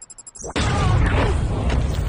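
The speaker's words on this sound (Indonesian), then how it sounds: "Tanpa disadari robot mini tersebut adalah bom, lalu meledak." In an animated Sonic the Hedgehog film, after a moment of clicking mechanical noise, a mini robot bomb explodes in a loud sudden blast that rolls on into a sustained roaring rumble with crackling debris.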